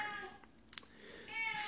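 A house cat meows softly a couple of times, drawn-out and faint against a quiet indoor background.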